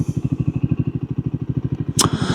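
Triumph Scrambler 400X motorcycle engine pulsing steadily and loudly at close range, with a fast regular thump, then a sharp click or shift clatter near the end and no talking.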